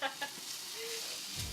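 Onions fry in a pan for pickled fish, giving a soft, steady sizzle with a couple of faint stirring knocks near the start, quiet and close.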